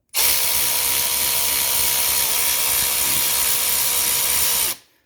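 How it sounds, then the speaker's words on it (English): A ratchet works the adjustment nut on the power steering pump of a 1985 wagon, giving a loud, steady, grinding mechanical whir that runs close up for nearly five seconds, then stops abruptly. "watch the power steering pump now when I turn this nut"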